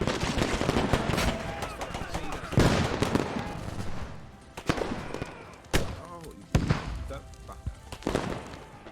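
Heavy 30mm cannon fire blasts apart a logistics truck in the military shooter game Squad, with loud repeated impacts and sharp explosive bangs spread through the clip amid dense battle noise, while players talk over it.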